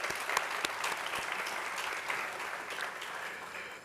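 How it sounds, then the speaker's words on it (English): Audience applause for panelists at a morning bioscience and pharma industry event, a sustained, moderately loud round of clapping with a few sharp individual claps. "another round of applause for our panelists this morning."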